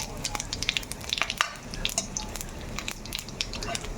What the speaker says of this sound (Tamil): அதோட பட்டை, கிராம்பு இதெல்லாம் கொஞ்சம் லைட்டாக போட்டு அப்படியே வதக்கி விட்ருங்க.